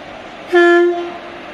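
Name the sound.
train and horn at Vijayawada railway station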